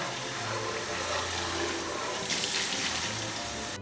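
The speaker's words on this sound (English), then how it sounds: "We're going to rinse that really good." Running tap water pours steadily over an air fryer basket being rinsed clean of grease in a sink, a loud continuous rushing splash with brief shifts as the basket moves under the stream.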